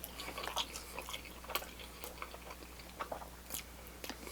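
Someone bites and chews a Papa John's papadia with Italian sausage, tomato and extra cheese, producing faint close crunches and soft chewing in a quiet room.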